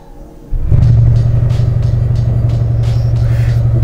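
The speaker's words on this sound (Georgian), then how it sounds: "როგორც კი გადავიდან სპორტში, აგუგუნდება 8 ცილინდრი და მოდი ერთად მოვუსმინოთ." A Bentley hybrid V8 switches to sport mode and its engine starts up and settles into a deep, loud, throbbing rumble, close and steady with slight pulsing rises, no voices.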